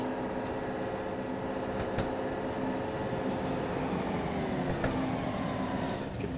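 A BR 628 diesel railcar in Train Sim World 3 on the Niddertalbahn pulls away with a steady engine drone and rising whine, a few faint clicks over the continuous rumble.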